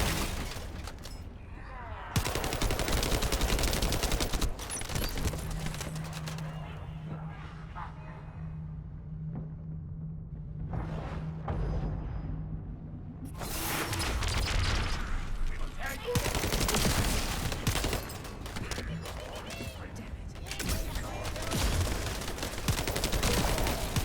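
Rapid gunfire bursts from the video game Zenless Zone Zero, loud and close, clustered at the start and again in the second half with a quieter stretch between, mixed with other game effects.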